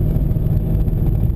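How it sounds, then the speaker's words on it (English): A 2011 Ford Mustang GT with its 5.0-liter V8 runs steadily from inside the car, a loud, continuous low rumble with no talking. "definitely the most important thing about this car is the 5-liter V8"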